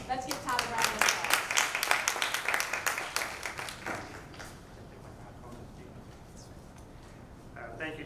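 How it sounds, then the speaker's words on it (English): A meeting audience gives Todd Grace a round of applause: dense, fairly close clapping for about four seconds, then tapering off into room noise. "Let's give Todd a round of applause."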